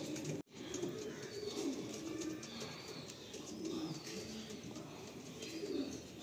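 Andhra pigeons, a green-ringed pair, coo softly in repeated low phrases, with faint chirps in the background and a brief knock near the start.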